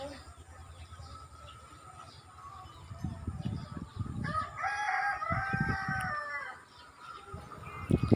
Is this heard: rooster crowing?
yes